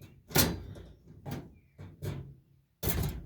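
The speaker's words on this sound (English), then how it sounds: "and then just slowly lower the door." Door of a live capture cat trap being lowered, heard as a series of four or five sharp metallic clanks and rattles spaced irregularly, close and fairly loud with quiet gaps between.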